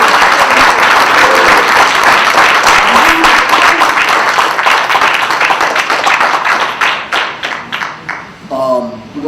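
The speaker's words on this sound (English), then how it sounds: "could you please stand and give this sister a round of applause?" Loud, dense crowd applause at a hip hop lecture event at Temple in Philly, sustained for several seconds before thinning into scattered claps, with voices calling out over the noise near the end.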